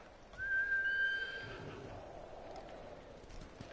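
A horse neighs in the Ghost of Tsushima video game, a single bright whinny with a falling pitch that carries clearly over low game ambience and then fades away.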